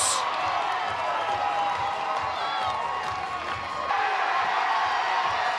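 A college softball crowd at a Mississippi State at Florida game cheers and shouts after a close play at home plate, a steady broadband roar with whoops and scattered voices rising again partway through.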